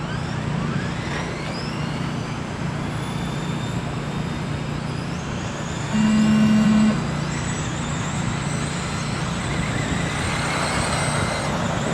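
Race cars roll out at the start of a race, with a steady, close engine and road drone throughout, rising tones sweeping past, and a brief tonal beep partway through.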